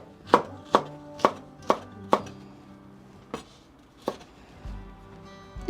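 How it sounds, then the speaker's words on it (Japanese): A kitchen knife chops a halved green bell pepper diagonally on a cutting board, five sharp evenly spaced strokes followed by a few slower, sparser cuts, close and clear with no talk. "これでピーマンも切れました。"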